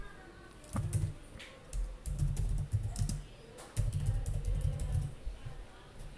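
Someone types on a computer keyboard while writing a Python program. Several close bursts of clacking keystrokes are separated by short pauses, with a few heavier key hits in between.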